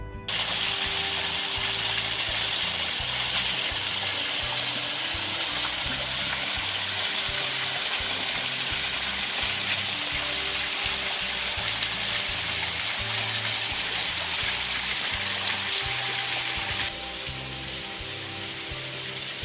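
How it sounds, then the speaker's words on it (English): Small waterfall beside Balsam Mountain Road in Great Smoky Mountains National Park, a continuous fizzing, splashing rush of water heard close and steady, with a slight drop in level near the end. "is a really cool little waterfall."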